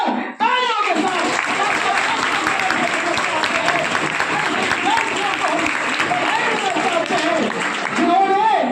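Loud, sustained applause from a large crowd at a student award ceremony, a dense wash of clapping with cheering voices rising through it, continuing without a break.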